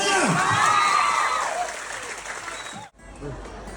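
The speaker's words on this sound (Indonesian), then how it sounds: "Tepuk tangan buat kalian semuanya." Dense applause from a school-event audience honoring an SMP Negeri 1 Kubutambahan student band, loud and sustained with cheering voices mixed in, fading and cutting off near the end before a brief quieter tail.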